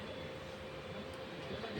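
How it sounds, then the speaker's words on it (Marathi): A train pulls away on the Bor Ghat line near Lonavala, a faint, distant, steady rumble and rolling noise heard from far off, with no talking. "ट्रेन आता निघाली."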